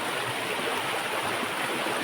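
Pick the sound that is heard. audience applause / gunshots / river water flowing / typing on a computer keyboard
river water flowing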